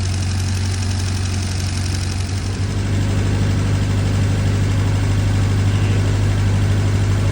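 A 73-year-old Fordson E83W van engine runs steadily up close, a loud continuous low drone with a knocking, idling rumble and no pauses.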